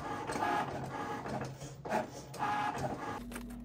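A Cricut cutting machine slicing through vinyl on its carrier sheet for a doormat stencil, a faint mechanical whirring and buzzing in short back-and-forth bursts, quiet and close, with no speech.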